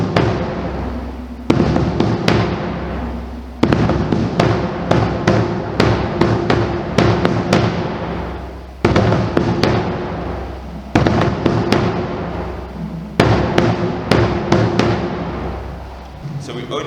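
Marching bass drums play an SEC marching beat, pounding loud, close hits in repeating loops of accented strokes with short breaks between phrases.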